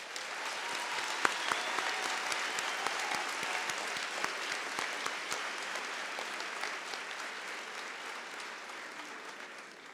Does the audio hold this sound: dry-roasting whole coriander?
no